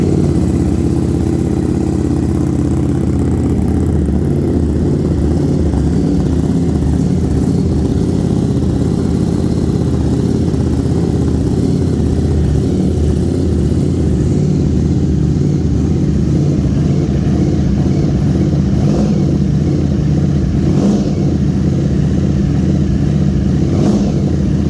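A Ducati Streetfighter V4 motorcycle, a factory bike of about 208 horsepower, roars steadily up close with a deep engine drone, surging in a couple of throttle blips toward the end without any talk.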